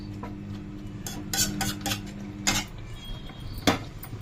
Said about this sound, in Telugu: మొత్తం ఒకసారి కలుపుకోవాలి.